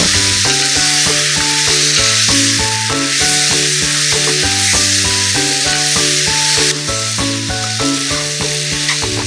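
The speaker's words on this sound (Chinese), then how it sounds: "倒入面条和鸡蛋，继续大火翻炒，大约40秒左右。" Noodles and egg are stir-fried over high heat for Cantonese-style chow mein. A constant loud hiss of frying runs beneath rhythmic background music that dominates throughout.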